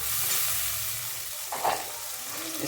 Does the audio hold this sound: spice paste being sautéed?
yes